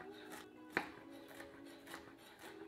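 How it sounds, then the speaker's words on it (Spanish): A kitchen knife slicing bell peppers into thin strips on a cutting board: one distinct chop against the board, then faint soft cuts, quiet and close with no voices. "Y pues nada más es de cortar todo en tiritas."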